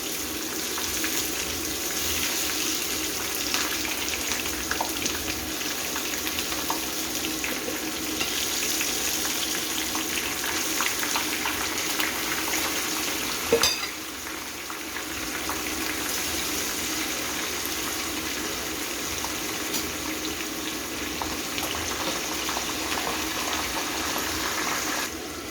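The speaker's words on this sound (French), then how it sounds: "On va commencer par frire notre poisson chicha maintenant." Chinchard (horse mackerel) fish frying in a pan, a steady loud sizzle and crackle running unbroken throughout with a brief clatter near the middle, no voices.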